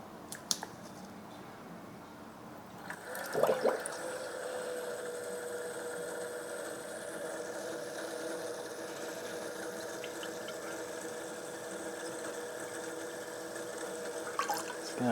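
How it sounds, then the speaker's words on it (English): A water-cooling pump starts pushing coolant through a PC loop in a small NAS case. A steady tonal hum and watery gurgle set in after a brief clatter and hold evenly. "we should be able to submerge that and activate the pump"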